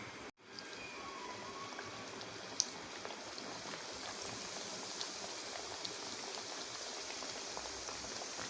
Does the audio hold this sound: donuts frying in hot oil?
yes